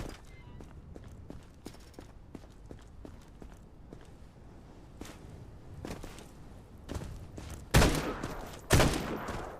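Gunfire in a video game, a quiet scatter of sharp shots through the clip and then two louder close bursts near the end, with a faint voice in the background.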